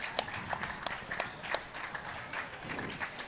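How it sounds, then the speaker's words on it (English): Crowd applause after a long rally in a doubles final at the US Nationals, heard as scattered, moderately distant clapping with a few sharper claps standing out over a hollow hall ambience. "As the crowd appreciates the action."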